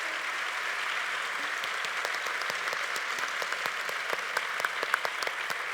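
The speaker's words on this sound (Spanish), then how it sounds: "pues un aplauso para ellos" Applause from a studio audience on a talk show, dense steady clapping with sharper individual claps rising toward the end, moderately loud and without voices.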